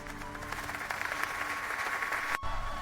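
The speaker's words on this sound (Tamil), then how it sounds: "ஊர் மக்கள் அனைவரும் ஆரவாரம் செய்தனர்" A crowd of villagers cheering and applauding at a village award ceremony: a steady wash of clapping and crowd noise, moderately loud and continuous for a few seconds, with a brief dip near the end.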